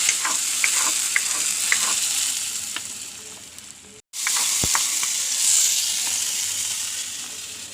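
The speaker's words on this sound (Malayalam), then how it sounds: "കറിയൊക്കെ തിളച്ച് പാകമായി. അപ്പോൾ അതിലേക്ക് കാച്ചി വയ്ക്കണം." Sliced onion and curry leaves sizzle in hot oil as a tempering for sardine fish curry, a steady close, loud frying hiss with small pops, briefly cut off midway before resuming just as strongly.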